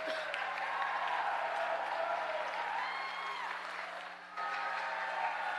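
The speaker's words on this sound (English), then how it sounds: "So the meeting will just take a lot longer if there's lots of cheering and all that" Audience in a Los Angeles city committee meeting room cheering and applauding, a steady dense wash of clapping and crowd noise that holds loud throughout, dipping briefly near the end before surging again.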